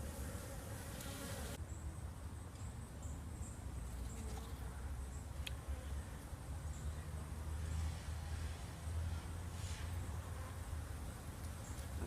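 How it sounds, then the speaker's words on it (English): Steady, low buzzing of many agitated honeybees swarming close by around an opened top bar hive, with a faint constant hum and occasional louder passes. "And the bees are pretty noisy, pretty upset."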